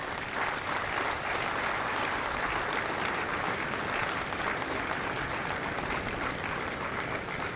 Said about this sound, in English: a round of applause for the families of Company F